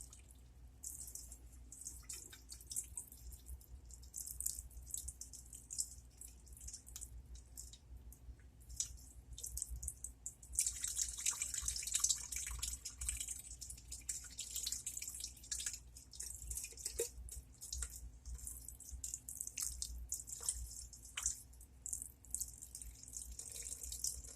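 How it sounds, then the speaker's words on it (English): Canned beef broth, a 14.5 ounce can, being poured into an Instant Pot, a faint, steady liquid trickle with soft drips and splashes that swell partway through, heard close up with no talking. "we're going to pour our beef broth"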